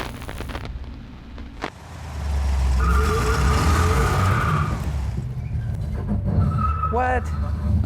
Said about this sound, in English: When I did my burnout